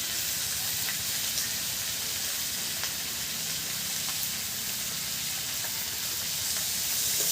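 Tomato and green chili frying with turmeric in a pan for a Bengali fish curry, producing a constant close sizzle and hiss with faint stirring and scraping, and no voices.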